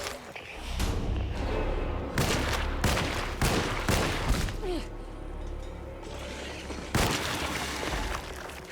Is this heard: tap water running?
no